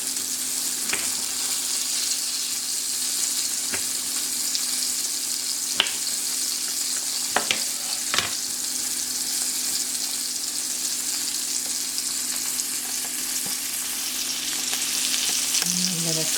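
Tomato chunks fry in a pan with a steady, close hiss and crackle, broken by a few light scrapes and clicks from stirring.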